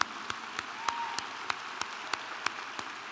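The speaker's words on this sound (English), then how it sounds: "a little round of applause" Sparse, scattered handclaps from a few people in a commencement audience at an App State College of Arts and Sciences graduation, sharp single claps spaced irregularly over a quiet hall.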